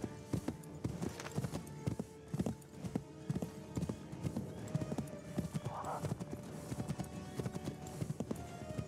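A horse gallops in the video game Assassin's Creed III, its hooves clip-clopping in a fast, steady rhythm with a brief neigh, fairly close and clear over low ambient game sounds.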